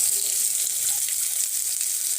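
Whole cumin seeds and raw onion frying in hot oil make a bright, continuous hiss that stays even and close for a couple of seconds, with no voices.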